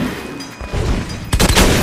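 Gunfire erupts in the Metro Last Light video game, a loud burst of shots hitting hard near the end after a stretch of muffled rumbling action, fairly close and dense.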